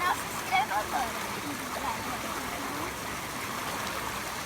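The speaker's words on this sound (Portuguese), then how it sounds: "a gente tá aqui na cachoeira" Waterfall and stream water rushing steadily in an outdoor setting, a constant broadband hiss at moderate level, with people talking over it near the start.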